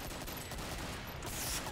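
Rapid shotgun fire in the video game Dosh Simulator 2012, a dense continuous barrage of booming blasts filling the whole moment with no pauses.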